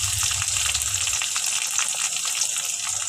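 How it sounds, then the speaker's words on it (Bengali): Garlic paste going into onions already frying in a pan, giving a steady, close sizzle with a low bubbling rumble at the start. "এখন আমি দিয়ে দিব রসুন বাটা,"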